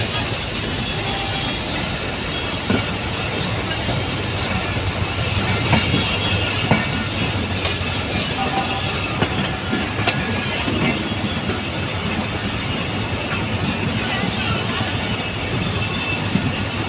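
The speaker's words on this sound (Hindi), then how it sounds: "तो ये डिपार्चर भी होने लगा है हमारा मलीर कालोनी रेलवे स्टेशन से" Shah Latif Express hauled by an HGMU-30 diesel locomotive departing Malir Colony railway station, a loud continuous rumble of engine and rolling wagons with rail clatter throughout, close by.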